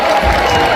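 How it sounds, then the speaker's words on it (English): A crowd of kids and adults applauds and cheers for children dressed as pirates at a science show, a loud, dense burst of clapping mixed with crowd noise, very brief. "Take a bow! With a nice big round of applause."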